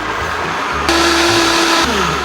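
A blender blends maple syrup into a seitan ham mixture. The motor whirs loudly in one short burst that jumps up in pitch for about a second, then drops back down.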